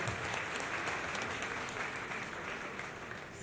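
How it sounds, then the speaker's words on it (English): Sustained audience clapping at a celebration of a bestselling crime thriller novel, a steady, fairly soft wash of many hands that holds evenly throughout without voices. "So we give a round of applause for that"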